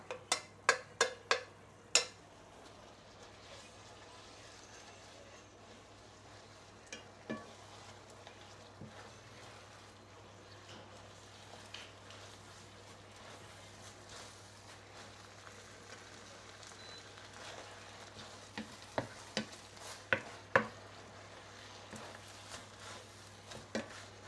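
Beehoon rice noodles stir-fried in a pan at home give off a faint, steady sizzle, broken by sporadic sharp clicks and clatters of a utensil against the pan.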